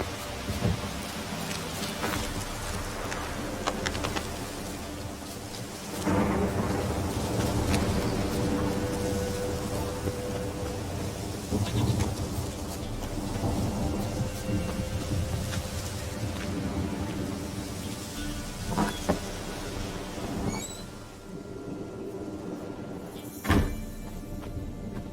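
Heavy rain pours down in a thunderstorm in The Witcher 3 video game, a dense steady hiss of downpour with low rumbling swells and a few sharper cracks, loud and continuous with no talking.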